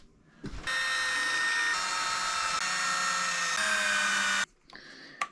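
An electric power driver runs a screw into a plastic RC bumper mount for an Arrma Outcast 8s, a steady high motor whine lasting about four seconds that shifts pitch partway through, followed by a short faint burst.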